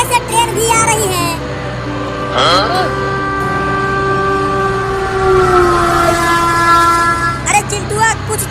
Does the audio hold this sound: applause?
no